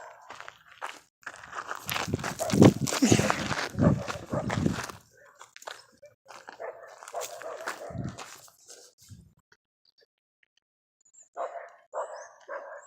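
A dog barks in short bursts outdoors while a mockingbird defends its territory, the barks mixed with crunching footsteps and people talking nearby, then quieter gaps and a few later sounds.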